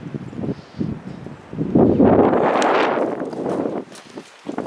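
Wind gusting hard at an exposed high spot, a steady roaring buffet that swells loudly in the middle and eases off, with faint rustling and brief low bumps around it.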